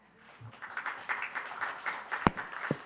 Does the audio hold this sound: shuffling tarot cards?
no